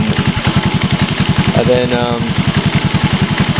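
A scrap-yard Honda TRX125 ATV engine idles steadily with a fast, even pulsing chug, loud and close, while someone speaks briefly over it.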